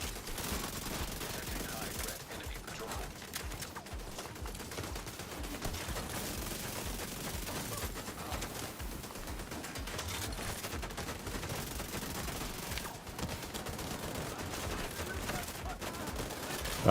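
A heavy gunner enemy in The Division 2 sprays machine gun fire, rapid and sustained for many seconds at a fairly low, distant level, blended with other combat sounds and occasional speech.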